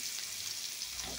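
Chopped onion frying in a pan, a steady close hiss and sizzle with a slight bubbling swell near the end and no talk.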